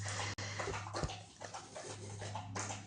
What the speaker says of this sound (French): Un gros chien qui boit, ça fait du bruit.